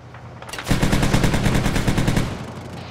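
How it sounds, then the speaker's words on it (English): Heavy machine gun fire in the ArmA military simulation game, a loud, rapid burst of evenly spaced shots lasting about two seconds after a brief quiet start. "Oh, heavy machine gun."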